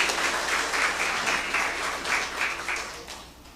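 Those present at a ceremony in Goiana applaud to welcome a guest, a dense, sustained wash of many hands clapping together, moderately loud and fading slightly at the end.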